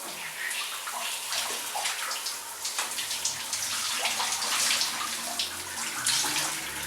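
Water runs steadily from a tap or shower while shampoo is rinsed out of curly hair, close by with splashing variations and no speech.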